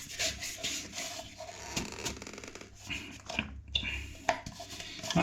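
A plastic shower waste fitting being tightened by hand during a shower tray install, with close rubbing, scraping and creaking of the plastic threads and fingers, in short irregular bursts.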